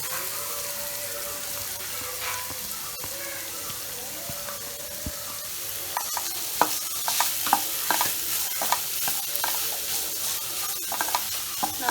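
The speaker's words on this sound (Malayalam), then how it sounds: "ഇനി നമുക്ക് നമ്മൾ അരിഞ്ഞു വെച്ചിരിക്കുന്ന സവാള ഇട്ട് കൊടുക്കാം." Sliced onions sizzle in a hot pan for a Kerala-style beef roast, a steady frying hiss broken by scraping stirs that grow busier and louder toward the end.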